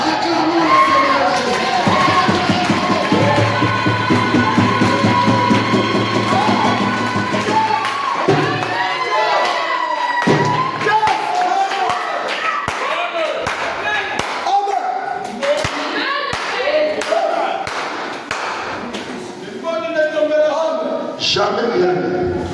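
Congregation in a French-speaking tabernacle service clapping and cheering loudly in acclaim of the Lord, dense rhythmic hand claps and shouts sustained throughout, with voices calling out over the crowd noise.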